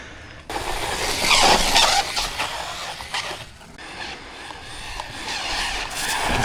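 A budget brushless RC basher car tears past at full throttle, its motor whining and rising to a loud peak before easing off. Tires scrub and rumble over the ground with no one talking.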